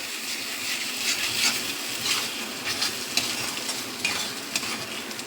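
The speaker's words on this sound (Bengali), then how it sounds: "এখন দিয়ে দিচ্ছি আদা রসুনের পেস্ট। এই পেস্টটা যখন পেঁয়াজ ভাজবো" Ginger-garlic paste hits frying onions in a pan with a continuous crackling sizzle, broken by scraping stirring strokes and small pops, close and fairly loud with no voices.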